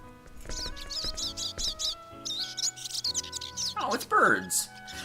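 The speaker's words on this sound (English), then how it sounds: "I'm like, what is that god-awful racket? Oh, it's birdies." Birds chirp in the Star Ocean 3 video game, bursts of rapid high twittering calls in quick series, loud and close, with a sweeping chattering trill near the end.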